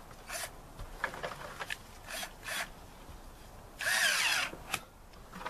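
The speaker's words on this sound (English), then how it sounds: "Now we're ready to tighten that up with our drill." A power drill tightening a steel band clamp whirs in several short bursts, with one longer, louder run near the end, close by and with no talking.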